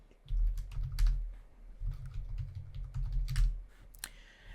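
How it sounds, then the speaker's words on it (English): Someone types a command on a computer keyboard, producing two quick bursts of close, crisp key clicks separated by a short pause, ending with a sharper final keystroke. "If you just type in sudo docker ps,"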